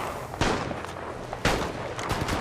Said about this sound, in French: Je tire.